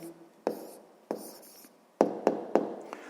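A pen writes down an answer to a sixth-grade math exercise on paper, a handful of sharp taps and short scratching strokes at uneven intervals, close and quiet, no voices.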